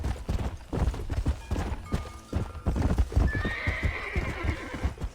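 A horse in the video game Red Dead Redemption, steady galloping hoofbeats clip-clopping throughout with a drawn-out neigh rising near the end, all fairly quiet.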